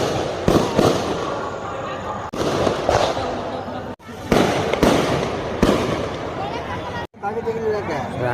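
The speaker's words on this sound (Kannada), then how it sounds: "ರಾತ್ರಿ ಇಡೀ ಬೆಳಕರಿವರೆಗೂ ಪಟಾಕಿ ಹೊಡಿತಾನೇ ಇದ್ದಾರೆ" Firecrackers burst at a village temple fire-walking festival for Veerabhadra Swamy in Keelara and Halkere, Mandya, with loud sharp bangs and crackling barrages repeating in bursts, while people talk and crowd chatter carries underneath.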